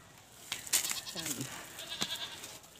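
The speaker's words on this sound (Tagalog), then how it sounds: "Ayan, ayun mga kambing natin oh." Goats bleat on a hot farm, several wavering calls rising over steady outdoor noise, with a louder cry near the start and fainter bleats following.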